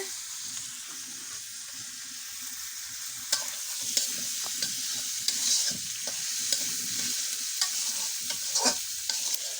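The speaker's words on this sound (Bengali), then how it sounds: "এখন মাছটা ভোনা করবে শুধু পেঁয়াজ দিয়ে" Fish sizzles with onions in a pan on a wood-fired stove. A continuous bright frying hiss is broken by repeated scraping stir strokes and clicks from the utensil, and no one talks.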